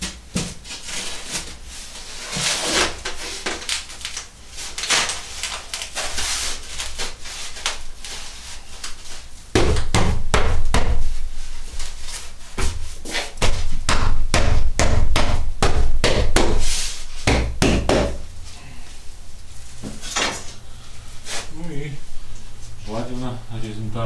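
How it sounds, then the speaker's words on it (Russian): A hammer knocks lumps of hardened cement mortar off a balcony wall, with scattered blows at first and then dense, rapid strikes in the middle. Someone talks over the work. "то их нужно сбить молотком"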